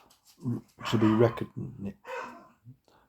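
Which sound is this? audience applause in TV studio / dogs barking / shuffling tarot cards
dogs barking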